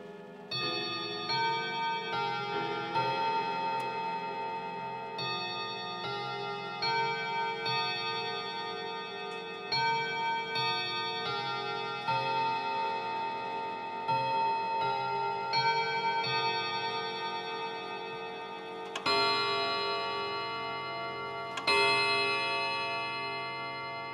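A Vedette long-case pendulum clock with a French-imported case sounds its chime, a sustained run of ringing, overlapping bell tones with two stronger strikes near the end, steady and moderately loud with no talk.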